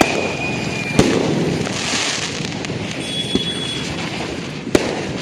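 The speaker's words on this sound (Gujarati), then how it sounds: "અહીંયા અમારે અદુબેન ફટાકડા ફોડે વાહ દિવાળી" Diwali firecrackers burst in sharp isolated cracks over a constant crackling, hissing backdrop, with three loud reports spaced across the stretch and a thin whistle passing twice.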